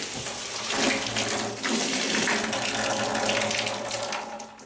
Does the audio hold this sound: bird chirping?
no